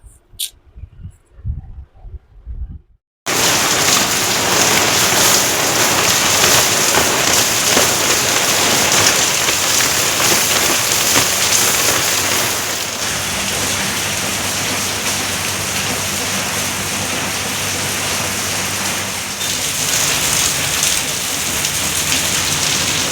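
Heavy monsoon rain pours in Vasai in a steady, dense roar after a few seconds of quieter sound at the start, continuing unbroken and loud to the end.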